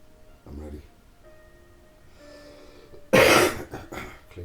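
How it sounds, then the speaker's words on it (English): A person clears their throat in one loud, harsh burst partway through, after a few quieter breathy sounds and soft mumbling nearby. "Clear my throat."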